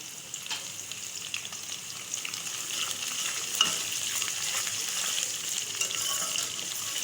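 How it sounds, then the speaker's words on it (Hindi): Spices, cloves and curry leaves frying in hot oil for a kadhi tempering, a steady bright sizzle and crackle throughout with occasional stirring scrapes, close and continuous, no voices. "और थोड़ा सा इसको फ्राई करूँगी।"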